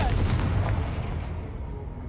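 The Confringo fire spell in Hogwarts Legacy lands as a deep, rumbling blast whose low boom decays slowly over two seconds, loud and close.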